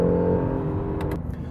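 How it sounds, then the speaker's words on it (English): An Acura NSX supercar engine revving steadily, with a quick transmission shift cutting the tone near the end and a couple of sharp clicks, heard close and alone. "So the transmission, here I'll show you the shifts. Are super quick."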